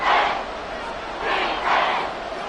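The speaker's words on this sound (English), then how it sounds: "Well, this crowd into it now." Football stadium crowd roaring before a crucial third down in a Tennessee game, a dense, loud broadband roar that swells twice in waves.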